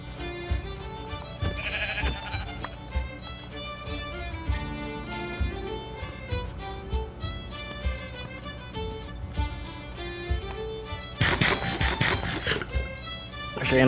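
Sheep in a video game bleat a few times over a steady bed of game music, with faint talk in places.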